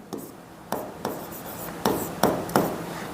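Pen writing out the working of a maths problem on paper, a series of short scratchy strokes in uneven bursts, close and fairly quiet, with no talking.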